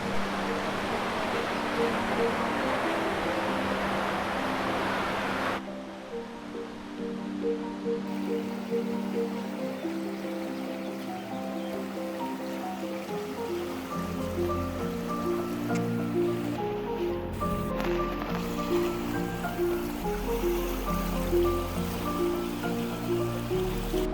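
A strong, fast-flowing spring-fed stream near Blue Eye, Albania, rushes steadily. The water is loud and close at first, then grows softer and more textured as it continues.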